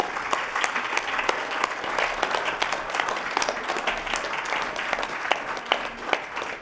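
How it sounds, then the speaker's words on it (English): Sustained audience applause at the closing of a NASA Space Apps hackathon in New York, steady dense clapping from a sizable crowd throughout with scattered sharper claps standing out. "Let's give them just like a huge round of applause."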